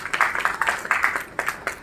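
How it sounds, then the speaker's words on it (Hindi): An audience claps together at the Ayurcon 2.0 seminar's cultural evening in Kota, a dense, fairly loud run of applause that swells and dips in quick, uneven bursts with no voices on top. "तालियों के साथ थोड़ा सा साथ दें मेरा"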